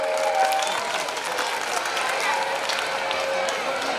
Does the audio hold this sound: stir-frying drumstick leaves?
no